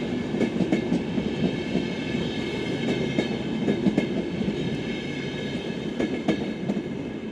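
A long VR double-decker train rolls past in Helsinki, Finland, with a steady rumble and rhythmic clickety-clack of wheels over rail joints, close and continuous with no voices.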